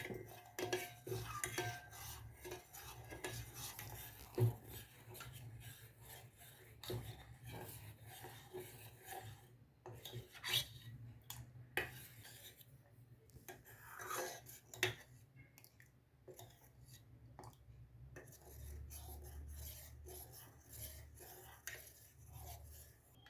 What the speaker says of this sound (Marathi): हे आता ढवळत राहायचं म्हणजे गुठळी होणार नाही